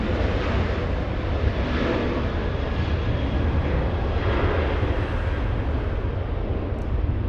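A Fiji airliner arriving at LAX roars as a steady, loud jet engine rumble that swells slightly and holds for several seconds, with no other sounds over it.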